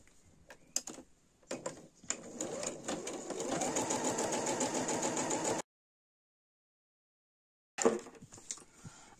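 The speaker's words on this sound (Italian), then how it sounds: "vado a fare questa cucitura a punto dritto" A domestic sewing machine runs a straight stitch along the edge of a small pocket, with short stuttering bursts and then a steady, fast mechanical hum lasting a few seconds. It stops abruptly, goes silent, then starts briefly again.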